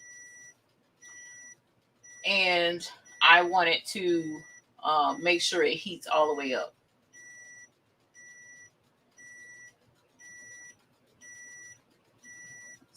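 Heat press timer sounding a regular series of short, high electronic beeps about once a second, carrying on steadily before and after a stretch of someone speaking over them.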